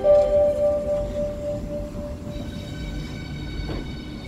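Lastochka electric commuter train pulling into Klin station, a loud steady rumble with sustained tonal whine and hum from the start, settling into a continuous roll as the cars pass close by.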